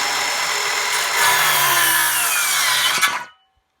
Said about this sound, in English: So I'm gonna start my saw with the blade not against the wood.